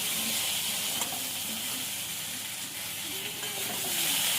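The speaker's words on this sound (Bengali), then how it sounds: "একটু ভাজা ভাজা করে নেব" Vegetable stalks fry in oil with turmeric and salt in a pan, a steady close sizzle with occasional stirring scrapes, no talking.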